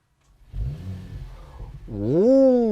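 A 2020 Mercedes-AMG GT 53 4Matic+ 4-Door Coupe starts up with its exhaust in the louder mode: a low rumble at first, then a sharp rising rev toward about 2000 rpm that swells and holds loud and close.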